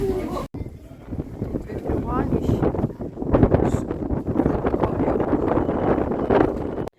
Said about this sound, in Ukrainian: На горі був страшенний вітер